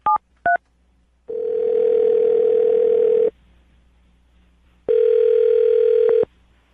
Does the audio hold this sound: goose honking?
no